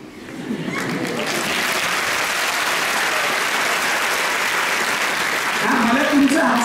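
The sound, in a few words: audience applause at a speech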